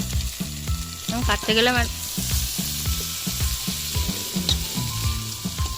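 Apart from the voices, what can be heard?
chikni greens cooking with onion, garlic, potato and eggplant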